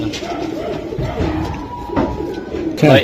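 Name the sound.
pigeon cooing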